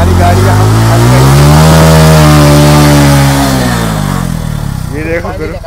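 A motorcycle stuck in mud on a rain-soaked track with flowing water revs loudly and steadily, its engine pitch rising and falling for several seconds before easing off near the end.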